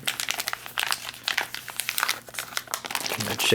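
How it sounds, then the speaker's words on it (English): A plastic MRE drink pouch, a 2013 Menu No. 19 ration, is pressed shut along its zip seal, giving a close, steady run of dry crinkling and crackling plastic over about three and a half seconds. "Zip that back up."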